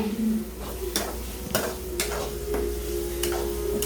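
Chicken curry with masala sizzling in a pan, stirred with a utensil that scrapes and clicks against the metal at regular intervals over a steady frying hiss, close and moderately loud, with no talking.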